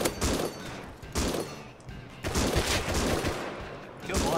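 Sniper gunfire in the video game Rust, several heavy shots cracking in bursts with short gaps between them, moderately loud over a low background rumble.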